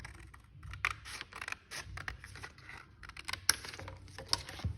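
Scissors snip through material in quick, faint, close clicks and crisp cuts, a scattered series of small snaps with no talking.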